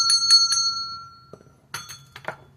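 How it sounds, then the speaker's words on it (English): A small bell rings clearly, with three quick bright strikes that fade out, a pause, then a second cluster of rings mixed with soft clinks. "Ringing the bell for a real smile"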